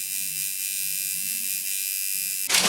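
An electric tattoo machine fitted with a needle buzzes steadily and close, a constant high whine that continues unbroken and ends in a short rattle.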